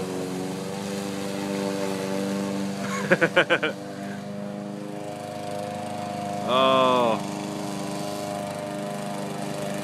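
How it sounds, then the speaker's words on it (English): Steady droning lawn mower engine mowing a residential yard, running continuously and fairly close, with a brief burst of voices partway through and a short revving swell later. "Working and mowing."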